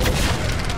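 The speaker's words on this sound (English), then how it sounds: "So, shotgun. Shotgun." Shotgun fire in Tomb Raider (2013), a brief loud booming blast filling the short moment during a tense firefight.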